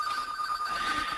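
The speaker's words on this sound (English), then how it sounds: "This is why I keep muting because my phone's ringing." A phone ringer chimes with a steady, repeating electronic ring, fairly close and clear, with no talk over it.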